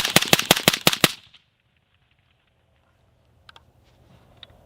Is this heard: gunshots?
yes